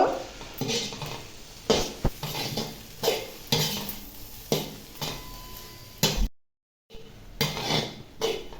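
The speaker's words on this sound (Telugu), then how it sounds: "ఇలా మొత్తం కలిసే వరకు చక్కగా కలుపుకోవాలండి" A spoon scrapes and stirs egg fried rice with chilli and tomato sauces in a metal pan, giving repeated clattering strokes at a steady rhythm, close and moderately loud, with a brief silent gap near the end.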